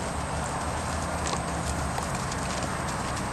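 A small horse, a rescue on its first ride checkout, walks under a rider, its hooves clip-clopping steadily beneath a dense, noisy outdoor wash with no talk.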